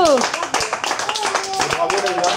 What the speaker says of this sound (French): Vraiment, on les applaudit encore.